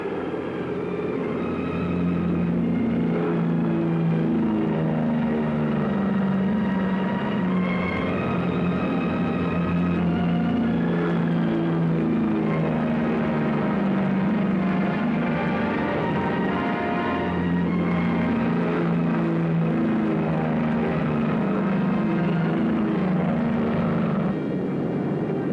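WWII combat aircraft engines run up to full throttle for takeoff, a steady loud droning roar with pulsing harmonics sustained throughout, with no talking.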